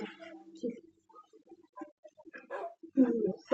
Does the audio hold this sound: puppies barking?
yes